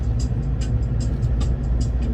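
A car rolls along a country road near Mareeba, its low engine and tyre rumble steady and close from inside the cabin, with faint intermittent higher ticks above the drone.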